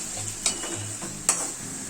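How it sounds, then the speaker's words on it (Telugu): Onions frying in a pan for veg Manchurian, a steady hiss of sizzling with two sharp spatula scrapes and stirring clicks, close and moderately loud, no voices. "ఈ ఆనియన్స్ బాగా ఫ్రై అవ్వాలి."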